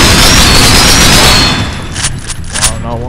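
Rapid bursts of gunfire crackle loudly during a multiplayer match of Splinter Cell Double Agent, then thin out into scattered shots and clatter.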